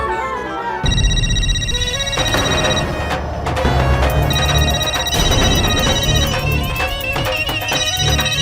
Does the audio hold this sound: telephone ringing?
yes